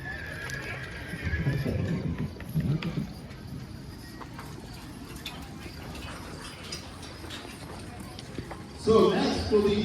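Draft horses at a county fair farm horse show in Pike, New York, give off intermittent clops and shuffles with a whinny, while people talk and crowd noise swells near the end.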